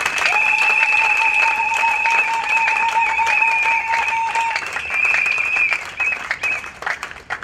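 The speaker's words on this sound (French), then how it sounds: "Je veux qu'on applaudisse très fort." Loud applause and cheering from a party audience greeting the first election candidate at a political meeting, dense clapping layered with a sustained high whistle or shrill tone over most of the stretch, tapering off near the end.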